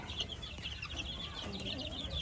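Chickens cluck softly and continuously over a steady farmyard hum, nearby but not loud; a purebred hen with a battle cross hen.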